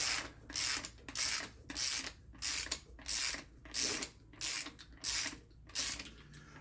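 A hand ratchet clicks in eight steady strokes, close and fairly quiet, tightening a spring compressor while Eibach lowering springs go onto a 2014 Dodge Challenger; no one speaks.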